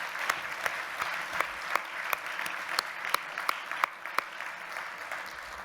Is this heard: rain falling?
no